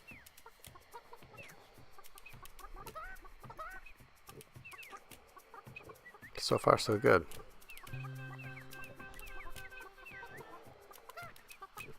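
Game chickens in Burly Men at Sea cluck and squawk repeatedly, peaking in a loud flurry midway, while someone talks over them and soft music plays.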